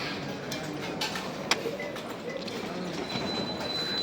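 A Bangkok airport metro train runs along the track in a steady, moderately loud rumble with faint rhythmic clacks and a thin high squeal, heard from nearby.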